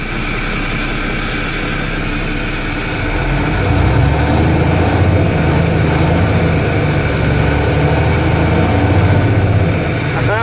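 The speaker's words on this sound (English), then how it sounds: "Just listen to that engine." An International S2500 truck engine idles with a deep, steady rumble, growing slightly louder partway through and continuing unbroken at close range.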